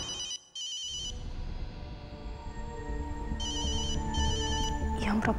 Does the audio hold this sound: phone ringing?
yes